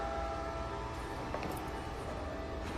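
Train in the Batman: The Telltale Series video game rumbles steadily with a faint horn-like tone and a few light metallic clanks, moderately loud, with no voices.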